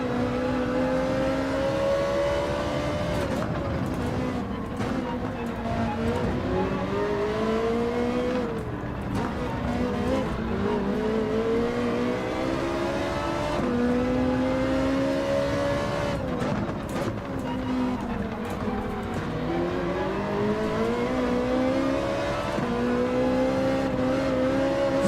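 A Ferrari race car engine in Gran Turismo 7, revving high and dropping repeatedly through gear changes, a continuous loud whine rising and falling in waves with occasional tire squeal.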